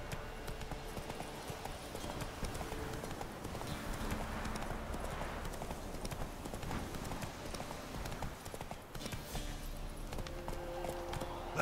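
Roach, the horse in The Witcher 3 video game, walks with steady repeated hoof clip-clops under a continuous layer of game ambience.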